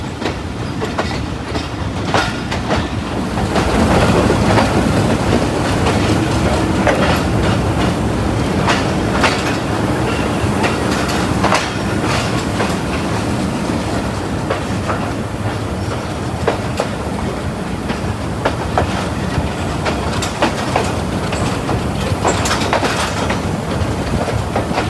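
The Mianwali Express passenger train runs on rails with a steady, loud rumble and rhythmic clickety-clack of wheels over joints, heard from inside without talk.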